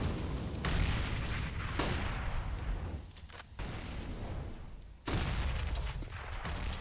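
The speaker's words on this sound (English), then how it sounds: "Loads of grenades." Grenades and gunfire going off repeatedly around Banana on the Inferno map in a Counter-Strike match, a dense, continuous barrage of booms with sharp bursts near the middle and end.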